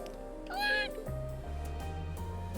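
A cat meows once in the role-playing video game Trails of Cold Steel, a short rising-falling cry over steady game music, with a voice speaking briefly around it.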